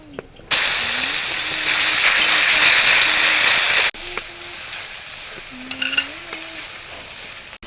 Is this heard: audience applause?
no